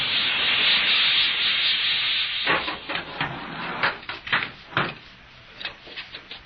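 A descending elevator, apparently hydraulic or compressed-air driven, gives off a steady airy hiss for a couple of seconds before giving way to irregular rubbing and knocking sounds. The recording is muffled and narrow-band, with no talking.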